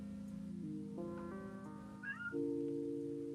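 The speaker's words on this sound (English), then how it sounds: "Oh my god, there's the cat again." A cat meows in a long, drawn-out, rising and falling call that grows louder toward the end, heard fairly close over a steady background hum.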